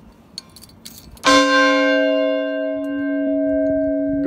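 The smallest bronze church bell at St Mary's, struck by hand once, rings with a bright, clear metallic tone that sustains and slowly decays, following faint handling noises.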